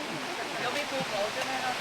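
A waterfall at a resort gives a steady, loud broadband rush that fills the moment, with people speaking over it.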